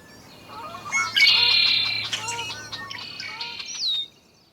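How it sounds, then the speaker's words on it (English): A single bird song rings out clearly: a few short notes leading into a bright, buzzy trill, like a red-winged blackbird calling nearby. "The male red-winged blackbird arrives at the breeding grounds and proclaims his territory."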